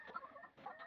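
Free-range chickens on a farm give a few quiet, brief clucks, faint and somewhat distant with no talk.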